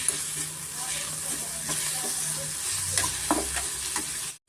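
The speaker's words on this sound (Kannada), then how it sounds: "ಒಂದು ಅರ್ಧ ಸ್ಪೂನ್ ಆಗೋಷ್ಟು ಶುಂಠಿ ಬೆಳ್ಳುಳ್ಳಿ ಪೇಸ್ಟು ಅದರ ಸ್ವಲ್ಪ ರಾಸ್ ಮೇಲೆ ಹೋಗೋವರೆಗೂ ಸ್ವಲ್ಪ ನಾವು ಚೆನ್ನಾಗಿ ಫ್ರೈ ಮಾಡ್ಕೊಬೇಕಾಗುತ್ತೆ" Ginger garlic paste stir-fries in a pan for a chicken liver pepper dry: a dense, steady sizzle with occasional scraping stirs, close and loud, cutting off abruptly at the end.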